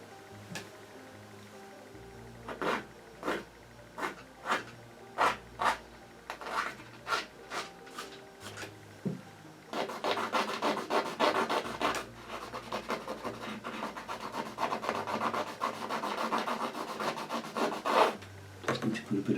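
A wooden matchstick scratches through wet oil paint on a canvas, giving close, dry rasping strokes: a row of separate short scrapes at first, then a denser run of continuous scratching.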